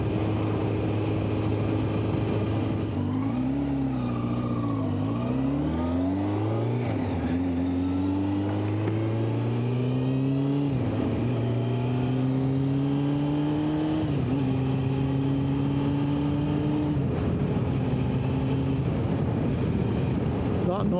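A 1990 Honda CBR600F motorcycle engine revs up and down repeatedly outdoors in the countryside, its rising and falling pitch loud and close, with wind buffeting the microphone throughout.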